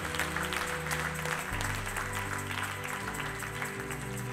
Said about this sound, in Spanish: Dale un aplauso al Rey con todo tu corazón.